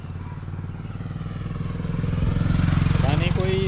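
Motorcycle passing on a road in Nepal, its engine growing louder and nearer over a few seconds, with a broad rumbling drone and a rising whine near the end.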